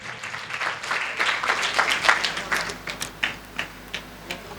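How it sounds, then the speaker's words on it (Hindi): A church congregation claps loudly together, a dense burst of applause that thins into scattered separate claps toward the end. "आए उनके लिए ज़ोरदार ताली बजाएं"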